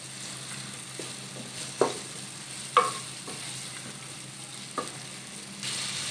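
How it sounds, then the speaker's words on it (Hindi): Boiled chicken frying in ghee in a pan, with a steady soft sizzle and a few sharp stirring clinks and scrapes scattered through. "250 ग्राम चिकन ऐड करेंगे। चिकन को पहले बॉईल कर लिया था। अच्छी तरह से भून लेंगे।"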